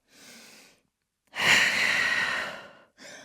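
Deep breathing during a vinyasa yoga flow in downward dog: a soft breath, a pause, then a long, strong exhale, and the start of another breath, close and alone.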